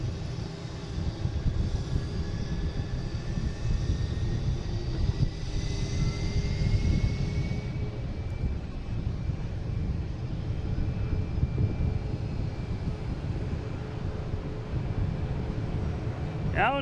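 A Delta Airbus A321neo arriving at Boston Logan from Denver gives a sustained jet rumble with a faint high whine that fades partway through, heard at moderate distance with a voice briefly over it.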